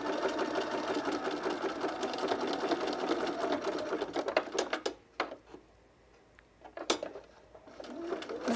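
A cover stitch sewing machine runs a steady, fast whir while sewing picot elastic onto underwear, stops abruptly midway, then starts again with a couple of short, close bursts.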